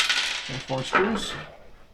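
A handful of small PC case screws clink and rattle together up close, a short bright metallic jingle heard while building a desktop computer.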